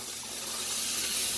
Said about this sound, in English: it's searing up nicely